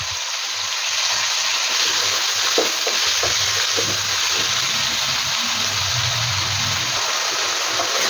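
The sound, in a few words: onion and tomato frying in oil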